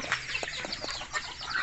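Native chickens cluck in short, soft, scattered calls at close range, with faint rustling between them and a slightly louder sound right at the end.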